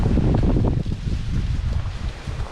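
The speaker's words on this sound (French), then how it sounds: "Et beaucoup de vent" Strong wind on a hike around Pennes-le-Sec in the Diois, France, buffets the microphone in a loud, continuous low roar that rises and falls slightly, with no voices.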